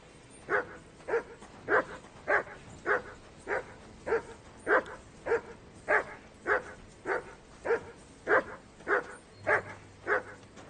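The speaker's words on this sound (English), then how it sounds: "hear those dogs?" Dogs bark steadily in Kingdom Come: Deliverance II, a long run of evenly spaced woofs at moderate distance, each bark distinct and repeating about every half second with no talking.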